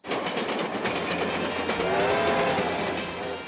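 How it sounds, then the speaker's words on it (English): A Festiniog Railway engine hauls a tourist train through Snowdonia, its steady rumble and clatter of carriages loud and continuous throughout, with a brighter whistle-like tone rising in the middle and no voices. "This engine is part of the Festiniog Railway, hauling tourists through the breathtaking scenery of Snowdonia."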